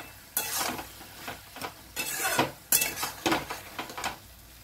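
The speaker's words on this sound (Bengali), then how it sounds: "বেগুনগুলো যেন মিশে যায়, সেই জন্য খুব ভালো করে নাড়াচাড়া করতে হবে" Eggplant curry stirred in a pan, with a run of close spoon scrapes and clatter against the metal in uneven bursts over a light sizzle, fairly quiet.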